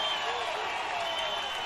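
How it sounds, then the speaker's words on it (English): Crowd at the Beach Tennis World Cup semi-finals applauding a Brazilian break of serve, a steady wash of distant clapping and cheering throughout. "The crowd loving that."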